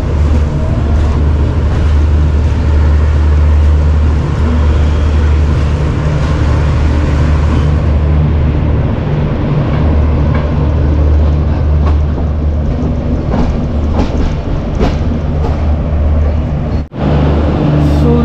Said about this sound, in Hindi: चलिए निकल चुकी है अपनी ट्रेन लखनऊ से।